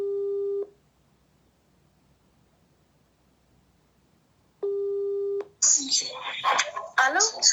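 Ringback tone of an outgoing phone call: a steady beep sounds, then about four seconds of silence, then a second beep, after which voices begin talking on the line.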